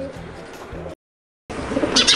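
Pigeons coo in soft repeated low throaty bursts close by, with a brief silent gap partway through before louder chirping and outdoor noise return.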